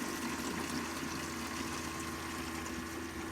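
Water pours steadily from an RO jug into the cooling system of a 1993 Chevy Lumina APV during a coolant flush, a continuous close, broadband gush that stays at an even level throughout.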